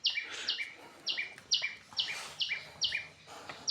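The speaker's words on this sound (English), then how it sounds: "we are used to seeing this bird every day." A small bird perched at a window chirps in quick repeated bursts, about eight sharp two-part calls in a steady rhythm, close and fairly loud with no talking.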